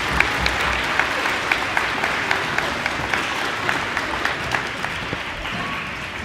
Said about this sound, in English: let's give a round of applause for all of our D.A.R.E graduates